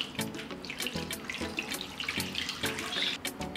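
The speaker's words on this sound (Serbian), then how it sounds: "Nalit ću sa vodom do visine poklopca." Tap water runs into a large pot holding glass jars on a cloth, a steady close splashing gush with shifting gurgles throughout.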